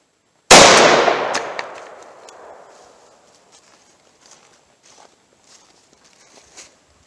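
A single loud .357 Magnum shot fired with Hornady Critical Duty ammunition, sharp and close, its blast ringing out in a long decaying tail, followed by a few faint clicks and taps.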